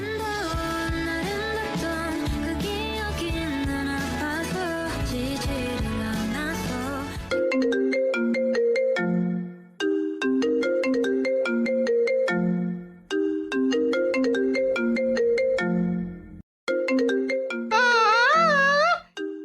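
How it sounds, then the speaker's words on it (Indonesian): A phone ringtone plays loudly and alone from repeated incoming calls, a bright repeating melodic jingle that stops and restarts several times. "Ini Kak Reno lagi yang nelpon. Udah 50 kali. Dia telepon terus"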